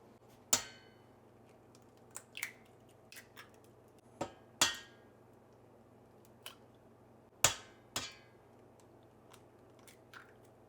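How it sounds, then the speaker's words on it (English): Four eggs cracked open one after another in a kitchen while making a carnivore birthday cake, giving sharp, separate cracking taps with short gaps between them and faint shell crackles after each, close and clear with no talking. "Crack open 4 eggs."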